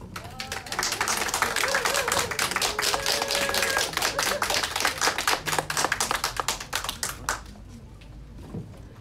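A crowd at a women's policy presentation event claps steadily and briskly for several seconds, dense overlapping hand claps that thin out and fade near the end, with faint voices underneath.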